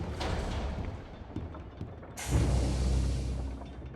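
Machinery in Bendy and the Ink Machine, played on Android, clanks and creaks in a steady mechanical churn. A sudden louder, fuller rumble starts about halfway through and then holds steady.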